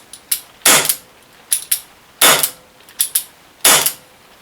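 Chiappa Rhino 50DS airsoft revolver firing double-action shots: about eight sharp, close cracks with brief mechanical clicks, loosely paired and spaced over a few seconds.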